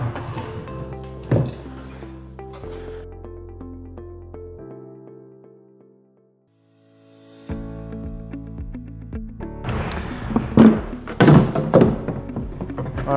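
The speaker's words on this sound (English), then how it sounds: "And now I can flip the tank." Heavy thunks and clinks of the 50-liter spray tank on an XAG P100 Pro agricultural drone being flipped over and handled, with a few knocks, a quiet gap, then a denser run of clattering bumps close by.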